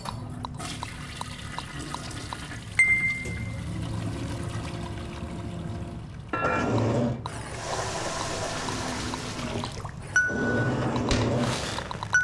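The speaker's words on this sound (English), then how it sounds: "This toilet seems to be working just fine. The water goes up. The water goes down." A toilet flushes in the video game Aperture Desk Job, with water rushing and gurgling in several surges over a low background hum, one swell after another, close and fairly loud.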